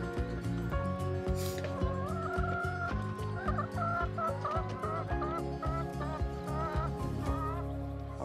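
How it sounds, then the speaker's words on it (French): Hens clucking in a mobile organic chicken coop that holds up to 250 birds. The clucks are steady and close, layered over a continuous rhythmic background that runs the whole time. "C'est un poulailler mobile où en bio bourgeon, on peut mettre 250 poules."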